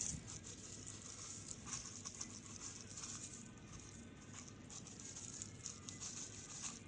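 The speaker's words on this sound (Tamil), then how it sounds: "இப்போது இதை நல்லா பறித்து விட்டுட்டு இந்த கொத்தமல்லியை அப்படியே தூவி விடலாம்" Coriander seeds are sprinkled by hand onto potting soil in a home garden pot, making a light, scattered patter of tiny grains landing close by, with no talking.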